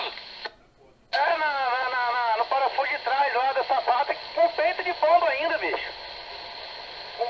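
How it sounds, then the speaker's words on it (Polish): A satellite communications radio receiver puts out a band-limited transponder hiss carrying garbled, warbling voice transmissions that start and stop in bursts after a brief dropout, fairly loud and close throughout. "Tutaj jest wyjście transpondera, ten szum."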